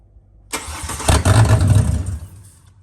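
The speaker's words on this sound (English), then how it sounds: "we've got ignition, but it's not going to idle" A Ford Barra XR6 turbo engine cranks and fires with a MAP sensor fault, catching into a rough, uneven burst of running that sags and dies away within a couple of seconds instead of settling into an idle.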